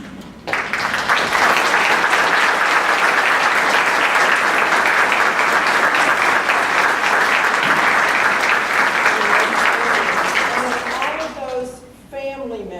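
An audience applauds graduating nursing students at an inaugural RN to BSN convocation, with loud sustained clapping starting abruptly and filling the hall for about ten seconds before tapering off, followed by a brief lull and a voice.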